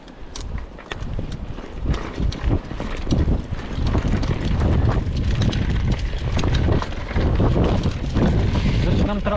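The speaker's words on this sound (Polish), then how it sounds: "dzisiaj jest mega wietrznie" Strong gusting wind buffets the microphone of a bike rider on a windy day, a loud, continuous low rumble with irregular bursts and thumps throughout, no speech over it.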